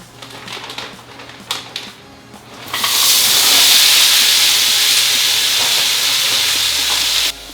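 Frozen oriental stir-fry vegetables drop from the bag into a hot wok and burst into a loud, steady, close sizzle that holds for several seconds before cutting off, after some quieter handling sounds.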